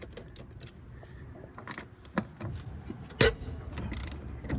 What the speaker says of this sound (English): So now we're gonna go ahead and loosen the lug nuts.